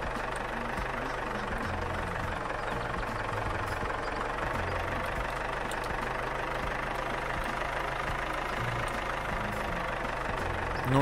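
A tractor engine runs steadily while mowing a field in the game Farmer's Life, a continuous mid-to-low droning hum with a faint knocking texture, holding an even level for about eleven seconds without talk.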